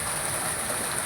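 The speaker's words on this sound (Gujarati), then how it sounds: "જબરજસ્ત વરસી રહ્યો છે." Heavy rain falls in a loud, unbroken wash of hiss and patter, close and steady for the whole brief moment with no voices over it.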